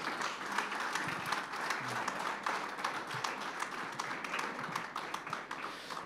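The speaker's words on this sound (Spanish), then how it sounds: "Fuerte ese aplauso de alabanza al Señor." A church congregation applauds in praise during a Spanish-language Christian service, a steady, dense clapping from a crowd that holds at an even level throughout with sharp individual claps standing out.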